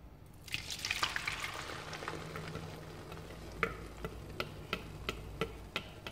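Beaten potato omelette mixture poured into hot olive oil in a frying pan bursts into a loud, broad sizzle, which settles into a steadier fry broken by a regular series of sharp ticks and pops.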